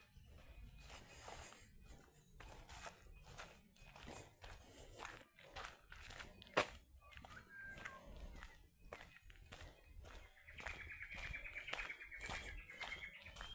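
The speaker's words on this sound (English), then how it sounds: "I've heard a bellbird, a whipbird." Faint calls of a bellbird and a whipbird come from bushland around Gold Creek Reservoir. Scattered chirps and one sharp whip-like note are heard over soft, steady footsteps on a walking track.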